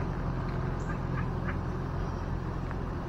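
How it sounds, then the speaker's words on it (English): Ducks at a park quack faintly and intermittently, a few short calls sitting under a constant loud outdoor rumble. "Oh, look at all the ducks."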